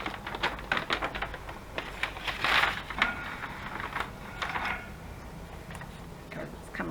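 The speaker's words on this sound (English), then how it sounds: "I'm just going to cut a strip off. Just a 3-inch strip." Scissors or a blade cutting a strip off a coffee-dyed paper page for a handmade journal, a quiet run of crisp snips and paper rustles close by.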